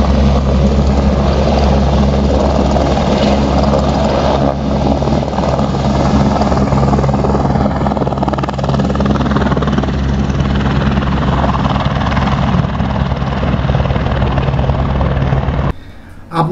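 A helicopter on the Amarnath Yatra route takes off with a loud, steady, close thudding rotor roar that fills the whole stretch before cutting off abruptly near the end.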